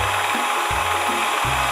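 A Miyako SM-625 stand mixer runs on speed 1 in a steady mechanical whir, with a clicking, ratchet-like rhythm that recurs about every 0.7 seconds. No one speaks.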